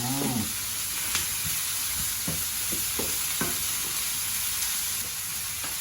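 Onions sautéing in a pan for a frittata, a steady frying sizzle with a constant high steam hiss and occasional stirring clinks and scrapes, close and continuous with no talk.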